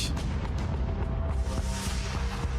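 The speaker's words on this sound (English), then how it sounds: "As both sides open up a deafening barrage, Dumouriez and Kellermann ride up and down" A battle documentary scene of an artillery cannon barrage, with heavy booms and rumbling blasts overlapping continuously, loud and dense throughout.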